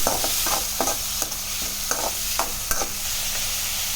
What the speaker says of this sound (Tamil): சின்ன வெங்காயம் போட்டுக்கலாம் நாலு பல்லு பூண்டு கொஞ்சம் கருவேப்பில போட்டு நல்லா வதக்கி போட்டுக்கலாம்